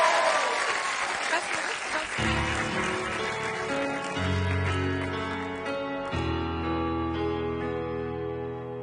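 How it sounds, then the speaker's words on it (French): Studio audience at a French TV show breaks into dense applause for a singer's entrance; after about two seconds the clapping fades beneath music with sustained tones that continue to the end. "on va l'applaudir très très fort"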